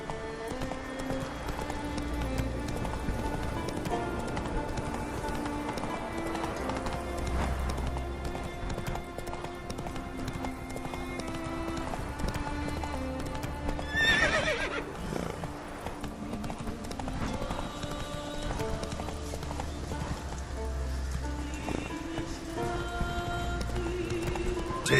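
Roach the horse gallops in The Witcher 3, hooves clip-clopping in a fast, steady rhythm under continuous game music for the whole stretch.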